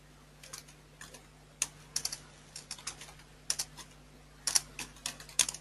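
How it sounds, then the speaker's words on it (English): Someone types a description on a computer keyboard, producing soft, quick key clicks in irregular bursts with brief pauses. The typing is close but quiet, with no voices. "type a description"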